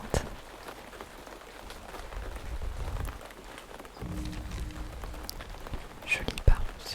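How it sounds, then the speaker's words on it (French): Rain pattering steadily on a tent in the video game Throne and Liberty, a soft, close, continuous wash of drops with a few sharper taps and a brief low hum partway through, heard alone without talk. "La pluie tombe sur la tente."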